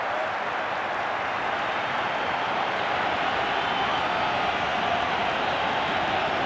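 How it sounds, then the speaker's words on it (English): Stadium crowd in Sydney applauding the Socceroos during an Australia versus Uruguay World Cup qualifier, a dense, steady wash of clapping and crowd noise sustained throughout. "this crowd in Sydney is on their feet, applauding the Socceroos' efforts"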